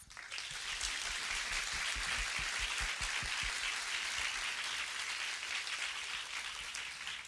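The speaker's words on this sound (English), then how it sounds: "I want to give all of those people I just mentioned and everyone I forgot a big warm round of applause" A crowd applauds at a film festival's opening night, with dense, steady clapping that stays loud and even throughout.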